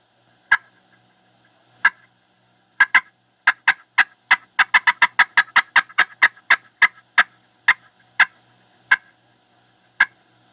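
A wild turkey gobbler, down on the ground, gobbles in a run of sharp, distinct bursts, sparse at first and then rapid and clustered, before thinning out again. The calls are clear and loud, with no talking.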